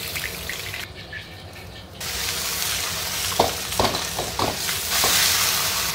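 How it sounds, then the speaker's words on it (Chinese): Crucian carp pan-frying in oil with a sprinkle of salt sizzle loudly and close by, with a quieter moment near the start and a run of clattering stirs and scrapes partway through. "煎出来的鱼它更香，而且里面的肉质也很嫩"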